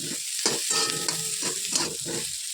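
Cauliflower pieces frying in oil in a pan, with loud sizzling and repeated stirring scrapes in short bursts, close and alone with no voices.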